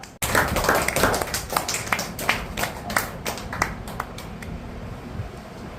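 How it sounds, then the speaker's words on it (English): Scattered hand claps from the audience at a monthly rewards and recognition ceremony as a guest of honour is welcomed, a moderately loud burst of separate claps that thins out and fades over a few seconds. "Let's give a big round of applause for our guest of honor, Mr. Lalit Prasad Saab"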